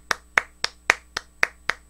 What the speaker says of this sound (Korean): 박수 먼저 쳐드릴게요.